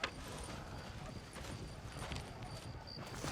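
Horse hoofbeats clip-clop at a trot in the Red Dead Redemption video game, a continuous rhythmic patter under game ambience with faint voices and a brief whinny-like tone.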